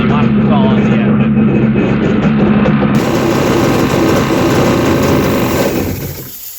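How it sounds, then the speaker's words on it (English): A jet ski engine runs steadily and loudly, then sputters and dies away near the end as it stalls on sprayed fogging oil. "as it sprays in there, it's going to stall out the engine"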